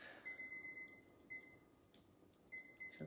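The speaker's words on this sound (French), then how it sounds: "Je crois qu'il va falloir que je change les piles de mon minuteur." A battery-powered kitchen timer with weak batteries, set for gelatine, gives faint, uneven electronic beeps in short clusters with irregular gaps in a quiet kitchen.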